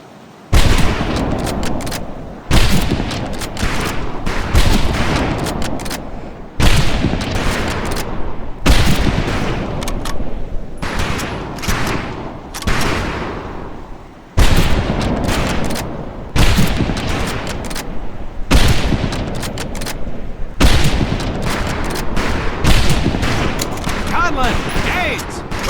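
Rifle volley on a firing range in Medal of Honor Pacific Assault, a dense, loud burst of overlapping gunshots repeating in waves with brief gaps between them.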